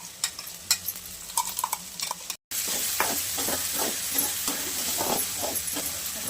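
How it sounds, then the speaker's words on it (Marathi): Tomato paste and onions sautéing in a pan while cooking dum aloo, giving a steady close sizzle with stirring scrapes throughout, briefly cut off by a moment of silence partway. "टोमॅटो मस्त परतून घेणार आहे आपण"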